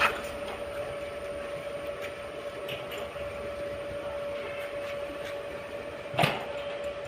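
A jammed metal gate scrapes and grinds as it is dragged along its tight bottom rail, a steady close rumble with a sharp metallic clank near the end.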